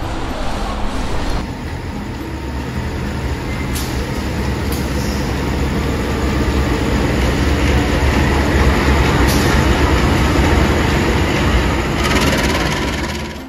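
A passenger train at Lempuyangan station in the evening gives a loud, continuous rumble of rolling wheels and carriages with faint metallic squeals and clanks, close and sustained throughout.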